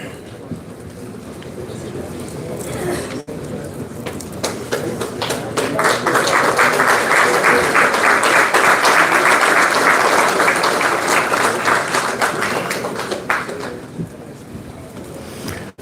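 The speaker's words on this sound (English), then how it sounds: "Give a good round of applause." Spectators at a cadets' passing-out parade applaud an award winner. The clapping is loud and crowd-wide, building over several seconds, holding steady, then tapering off.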